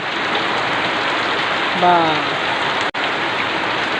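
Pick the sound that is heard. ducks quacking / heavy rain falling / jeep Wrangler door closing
heavy rain falling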